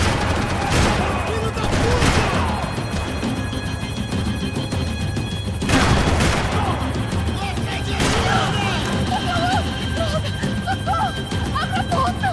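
Heavy gunfire from the video game Max Payne 3, with bursts of shots and crashing impacts over a dense game soundscape while characters talk over the action.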